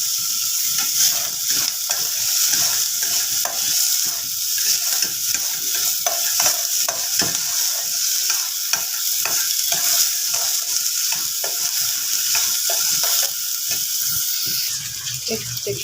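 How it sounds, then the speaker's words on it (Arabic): Continuous sizzling and crackling of onion frying in hot ghee, with scattered stirring clicks throughout; no voices. "نصفر البصلاية صفيرة وننزل عليها بشوية عصير طماطم"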